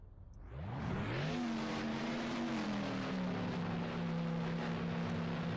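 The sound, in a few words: Formula 1 race car engine in a racing video game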